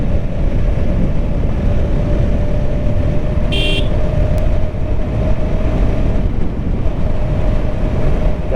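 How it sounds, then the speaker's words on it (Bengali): Traffic on a road roars steadily and loudly close by, mixed with heavy wind buffeting on the microphone, with a brief high electronic-sounding tone partway through and no talking. "গাড়ির অনেক সাউন্ড করতেছে।"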